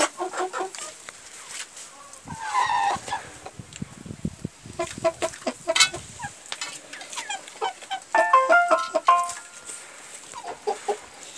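Broiler chickens in a coop cluck and squawk close by in irregular bursts, several birds calling over and under one another with no talking.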